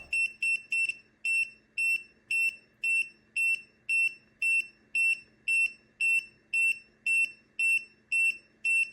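A TopTes PT760 rechargeable gas leak detector sounding its alarm near a gas torch: a quick burst of rapid beeps, then steady evenly spaced high-pitched beeps repeating about twice a second, loud and alone.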